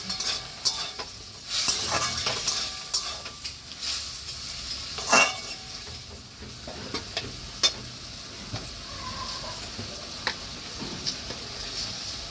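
Vegetables and fish cooking in a pan for pui shak after a little water is added, a soft continuous sizzle with scattered clicks and scrapes of a utensil against the pan.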